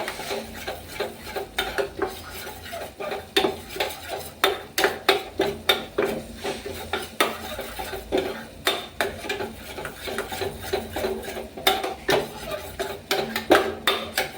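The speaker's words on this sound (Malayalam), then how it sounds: "ഈ സമയമൊക്കെ ആകുമ്പോൾ നമ്മൾ കൈവിടാതെ ഇളക്കി കൊടുത്തുകൊണ്ടേയിരിക്കണം" Homemade lip balm mixture is stirred in a pan, the spoon rasping and scraping against the bottom in a quick, steady back-and-forth rhythm, close and fairly loud with no talking.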